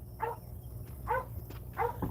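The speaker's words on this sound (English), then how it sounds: "We got a lot of dogs." Dogs on a rural property bark three times at an even pace, faint and somewhat distant, over a low background hum.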